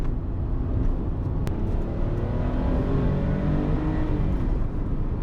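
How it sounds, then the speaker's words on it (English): A Porsche air-cooled flat-six engine hums loudly and steadily up close, its pitch rising and falling gently as the revs change. "The engine is a nice, sort of sweet, smooth unit"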